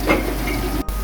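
Onions sizzle and fry in a pan for Ugandan pilawo with meat and rice, giving a soft, steady crackle. A faint clink or stir can be heard near the start, and the sound is brief and close.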